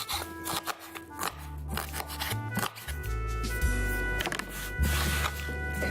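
Quick, repeated chopping and cutting sounds close by, a busy run of short crisp strokes over a low background hum.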